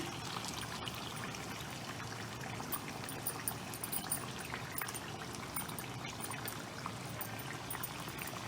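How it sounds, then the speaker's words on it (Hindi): Onion paste going into a pot of chicken and bottle gourd curry, giving a steady wet pouring and bubbling sizzle that runs continuously at moderate level with no talk. "अब हमने अपनी प्याज को बिल्कुल पेस्ट की तरह पीस के रखा हुआ है, वो हम अपना डाल देंगे इसमें"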